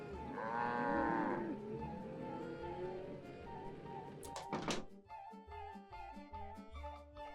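Cattle lowing in the Nancy Drew: Secret of the Old Clock game, a long, loud moo near the start that fades over a few seconds, followed by a thump and light music.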